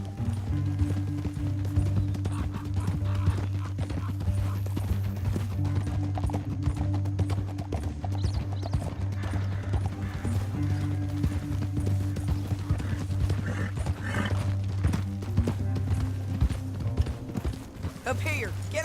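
Galloping horse hooves in Red Dead Redemption 2, a steady drumming clip-clop running throughout alongside game music and occasional talk.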